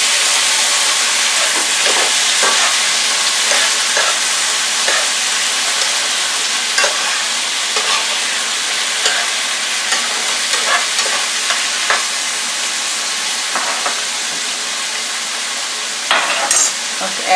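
Black beans and corn sizzle steadily in a hot pan, with a constant frying hiss and scattered scraping and clinking as the food is stirred.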